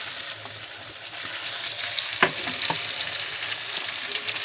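Tomato, green chili and ginger sizzle steadily in hot oil in a pan for a home-style fish curry, a loud, continuous close hiss with a few soft stirring clinks.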